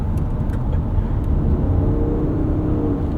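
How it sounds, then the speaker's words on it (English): Lexus TX 550h+ plug-in hybrid SUV with a V6 accelerating, giving a steady, fairly loud engine hum heard from inside the cabin, with a rising tone toward the end of the run. "I kind of like the way the V6 sounds too."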